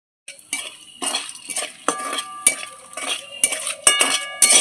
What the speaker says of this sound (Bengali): তেলের মধ্যে একটু নেড়ে নেব